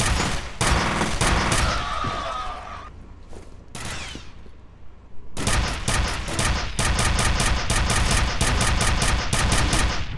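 Gunfire from the F.E.A.R. video game: loud, close bursts of rapid automatic shots, a short quieter lull in the middle, then a long steady rattle of repeated shots to the end.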